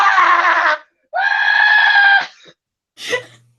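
A voice imitating a Wilhelm scream during a tabletop role-playing game, as a burning character runs off: two long, loud wavering screams, then a short fading cry.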